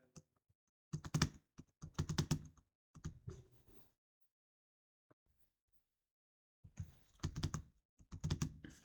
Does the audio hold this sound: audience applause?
no